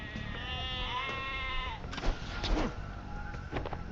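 Sheep bleating in the Age of Empires II strategy game, a couple of wavering bleats over game ambience and short sound effects, no talking.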